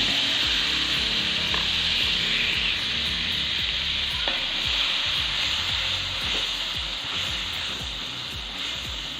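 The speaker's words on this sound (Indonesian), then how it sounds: "Jika sudah halus, kita masak halunya." Ground chili paste sizzles steadily in a hot pan, a continuous close frying hiss with occasional soft stirring scrapes from a wooden utensil, no voices.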